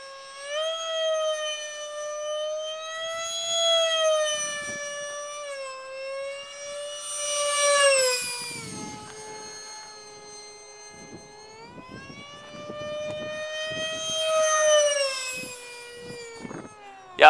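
Wingsmaker Panther DF-032 64mm EDF RC jet flying past, a high whining ducted-fan tone that rises and falls in pitch as it speeds up, swoops away and returns, loud and steady with no talking.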